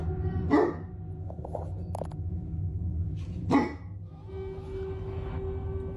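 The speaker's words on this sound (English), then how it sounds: "recording a candid video of her dogs to post to Snapchat when this happens" Dogs bark in two loud, close bursts a few seconds apart, with yips and softer whimpering noises in between.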